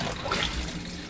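An RV toilet in a Minnie Winnie motorhome empties as its lever is pulled all the way, giving a steady, close rush and trickle of water that runs evenly for about a second.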